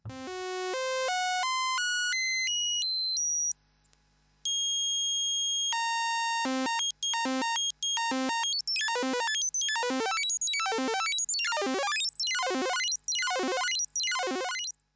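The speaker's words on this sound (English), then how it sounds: "You'll be able to hear the quantization of the LFO." Equator2 synth pitch quantized by an LFO: bright, stepped beeping tones climb and jump in discrete pitch steps, then chop into fast repeating bleeps and sweeping chirps like old computer game sound effects, steady and alone.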